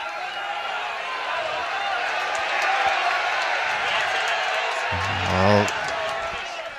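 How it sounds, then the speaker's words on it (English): Connacht rugby supporters roar at a sports ground in a steady, broad crowd din, swelling slightly near the end, with commentary running over it. "Connacht supporters roaring on their team here"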